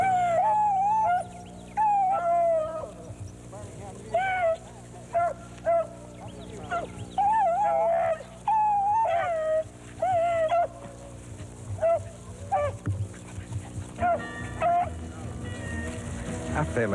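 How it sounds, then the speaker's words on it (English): Beagles baying while trailing a rabbit on a hunt, with repeated howling bay notes in bursts from several dogs, at moderate distance outdoors. "Little beagles."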